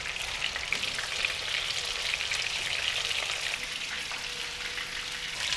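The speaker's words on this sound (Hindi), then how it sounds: "मछली हाफ फ्राई हो गई है" Fish pieces shallow fry in oil with a steady, moderately loud hiss and fine crackle that holds constant throughout.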